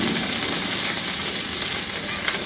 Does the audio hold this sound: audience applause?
no